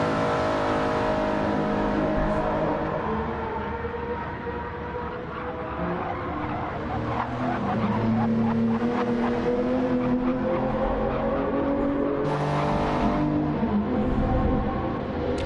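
Toyota Supra GR.3 race car engine in Gran Turismo 7, a sustained loud droning whine that rises and falls with revs over an online race, steady and continuous throughout.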